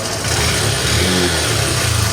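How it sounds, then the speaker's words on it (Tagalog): A noisy Honda CB 125 motorcycle engine runs steadily up close, a loud continuous mechanical drone with no talk over it, its roughness attributed to a worn camshaft. "medyo maingay lang yung makina dahil need na yata palitan ng kamchin"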